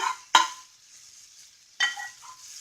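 Apples stirred into a dense oatmeal pancake batter in a bowl, giving two distinct scraping, mixing strokes about a second and a half apart, close and clear with quiet pauses between.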